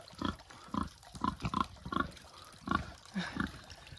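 A muddy pig grunts and oinks repeatedly in short bursts, close by, with some splashing water in the background.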